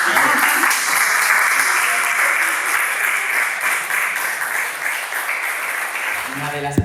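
At a novel's book launch, the audience gives the book's illustrator a loud, steady round of applause that carries on for several seconds and tapers slightly, with a voice faintly mixed in beneath.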